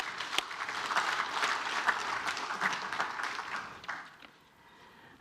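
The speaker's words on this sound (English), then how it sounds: "please give yourselves a round of applause" Audience at an entrepreneurial fair applauding, a dense burst of clapping that carries on for several seconds before thinning out and fading.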